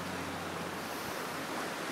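Small tsunami surges wash steadily over the reef and sea wall at Kahaluu Bay, heard as a continuous broadband rush of moving water and wind with no distinct breaks, fairly loud and with no voices.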